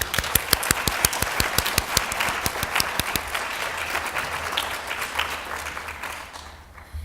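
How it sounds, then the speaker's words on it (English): Crowd applause at a chapter chartering and induction ceremony, starting with crisp, closely spaced claps that blend into a dense patter and gradually fade out toward the end. "I think we should offer each member of this team another round of applause."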